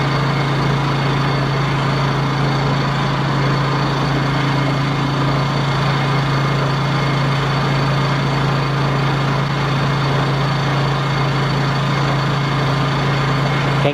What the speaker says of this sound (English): my goal for the day, was to get the generator started, get it running